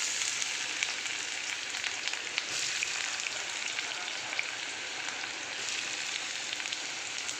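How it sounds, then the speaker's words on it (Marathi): Onions frying in hot oil for egg masala, giving a steady, close, even sizzle that runs unbroken throughout with no talking. "चला तर कांदे चांगले परतून घेते."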